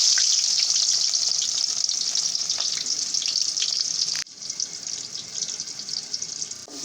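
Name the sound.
chopped onion frying in oil until brown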